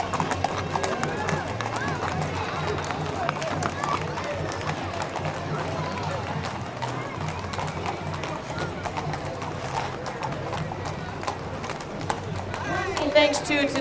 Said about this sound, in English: An amazing group of riders and obviously amazing group of horses